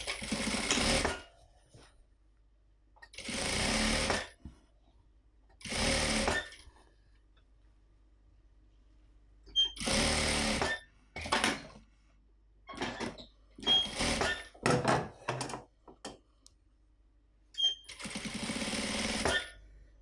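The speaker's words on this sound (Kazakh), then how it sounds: "Бірдей қылып қойып, тігіп шығамыз." A sewing machine stitches fabric pieces together in repeated loud mechanical bursts, some long and some short, separated by quiet pauses, heard close and alone.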